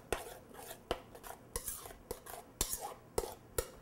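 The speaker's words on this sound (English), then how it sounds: "Mix it on in." A utensil stirs a frittata mixture in a bowl, giving a series of sharp clinks and scrapes at an irregular rhythm, close and fairly quiet.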